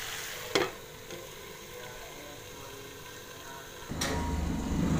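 Tori and potato sabzi, Punjabi style, cooking in a covered pan: a low continuous sizzle and hiss with an occasional clatter of the lid or spoon, growing slightly louder toward the end.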